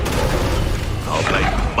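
A loud Incendio fire spell blasting in the Hogwarts Legacy video game, a dense continuous booming roar lasting throughout, with a voice talking over it.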